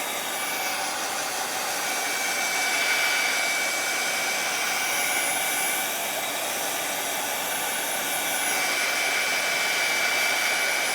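A heat gun blows steadily while drying watercolor paint on paper, a loud, continuous whooshing roar with a faint high whine that holds for the whole stretch, with no talking over it.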